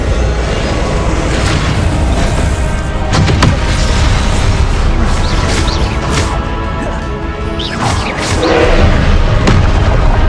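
Spell blasts cast in Hogwarts Legacy, a dense barrage of loud booming impacts and crackling bursts overlapping continuously, with a few sharper whooshing strikes near the middle and end.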